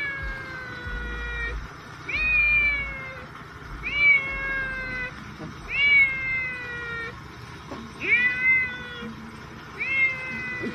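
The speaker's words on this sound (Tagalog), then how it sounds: "kawawa yung pusa dun sa, ano, iyak ng iyak" A cat meows repeatedly, loud and close, each cry rising and falling, with short pauses between calls and faint background rumble.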